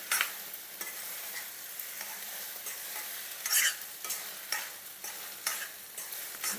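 Amla pulihora mixture with curry leaves frying in oil, a soft steady sizzle broken by regular scraping strokes of a spoon stirring the pan, moderately quiet and with no voices.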